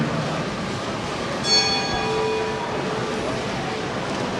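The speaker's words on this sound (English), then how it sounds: "that is the starting bell here at the 2012 USBC Open Championships" A single bell rings to start competition at the 2012 USBC Open Championships bowling event, a clear ringing tone that decays over about a second against steady hall ambience.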